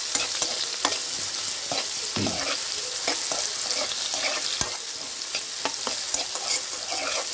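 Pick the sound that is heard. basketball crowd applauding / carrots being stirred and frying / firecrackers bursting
carrots being stirred and frying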